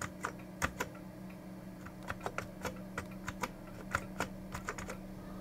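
Restored Amiga 1200 keyboard being typed on after reassembly: irregular sharp key clicks, some in quick bursts, close and clear over a steady low electrical hum.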